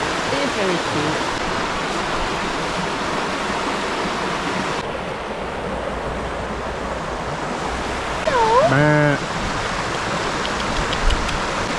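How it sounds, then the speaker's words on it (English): A river flows near Bolton by Bowland, giving a steady, full rushing wash of water throughout, with a brief animal cry breaking through near the end. "Quite nice that looking river."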